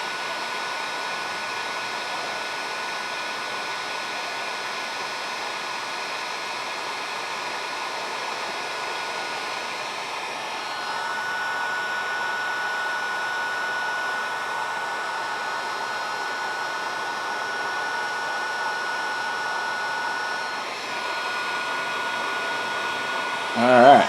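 A heat tool blows a steady, loud, hair-dryer-like whoosh for over twenty seconds while melting solder on the electric starter wiring of a Snapper rear-engine tractor. Its pitch shifts slightly midway, and a brief louder burst comes at the end.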